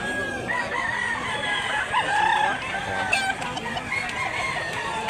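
Chickens cluck and a rooster crows at a Cebu market selling fowl, the bird calls rising over a steady murmur of nearby voices.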